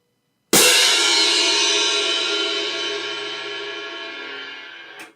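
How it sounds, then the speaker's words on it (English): A pair of crash cymbals is struck once in a dampened forte-piano crash: a sharp, bright attack that rings on and slowly fades over several seconds before being cut off abruptly, heard alone. "that's a pretty effective way to do a forte piano crash"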